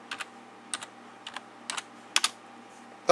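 A few light keystrokes on a computer keyboard come in short, irregular clusters with pauses between them, close and crisp against a quiet background.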